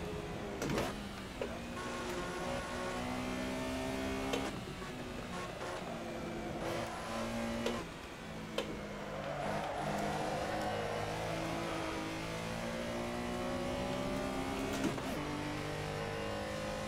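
A race car engine at Silverstone in a racing video game, revving steadily through rising and falling gear pitches, with abrupt shift breaks and a continuous close, moderately loud whine.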